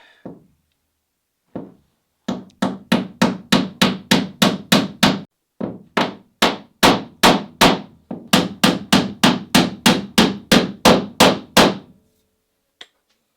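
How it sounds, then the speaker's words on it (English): Steady, loud strikes of a slightly heavier hammer on wood while building a wooden wherry boat, in quick even runs, about twenty blows with a couple of brief pauses, heard alone without talk. "Headphones and a slightly heavier hammer."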